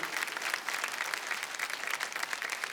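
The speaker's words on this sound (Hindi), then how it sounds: "जोरदार तालियां हो जाएं।" A crowd at a televised singing show applauds steadily in a dense, even wash of clapping that lasts throughout, with no voices standing out above it.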